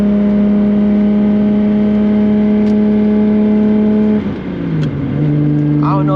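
A Nissan Skyline R32 GT-R engine with a T51R turbo upgrade hums steadily at a constant drone, then dips and shifts pitch as it changes gear, with a faint whine rising near the end.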